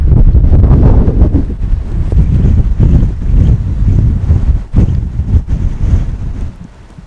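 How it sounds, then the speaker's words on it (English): Very strong gusty wind roars straight into the microphone during a spring storm, a loud rumbling buffeting that surges and dips in waves before easing toward the end, with no talking. "Very strong wind."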